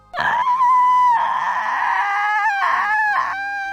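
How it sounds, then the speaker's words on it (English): A female character in the Space Quest 6 video game lets out a long, loud, wavering scream that warbles in pitch and breaks into a few rising yelps before fading. "I guess that was supposed to be a scream"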